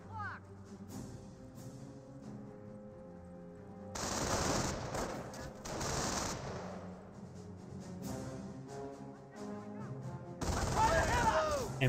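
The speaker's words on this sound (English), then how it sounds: "MG42 gets a little bit of pepper there" MG42 machine gun fire in the game Company of Heroes, sounding as bursts of rapid gunfire around 4 to 7 seconds and again near the end, over a steady battle background with someone commentating throughout.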